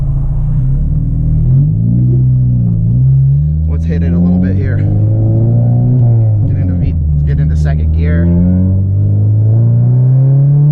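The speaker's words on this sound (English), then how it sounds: "for a 3-inch exhaust in a 4-cylinder, not bad whatsoever" A ninth-generation Honda Civic Si four-cylinder with a 3-inch exhaust drones and revs, a loud deep rumble rising and falling through a few revs with someone talking over it.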